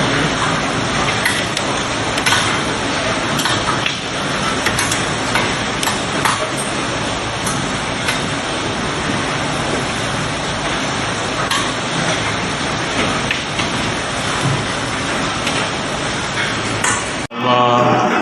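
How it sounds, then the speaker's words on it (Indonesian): Hailstones pelting down with strong wind in Surabaya, a dense, loud, unbroken clatter of icy pings and hard rain on surfaces lasting throughout, cutting off abruptly at the very end. "Hujan es batu, wiyung."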